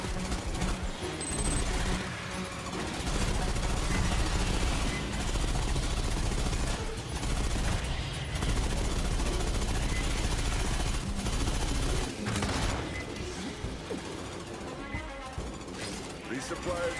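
An automatic weapon fires in Aliens: Fireteam Elite 2, sending dense, loud bursts and rapid rattling shots that run almost without a break, with a brief lull and voices talking over the gunfire.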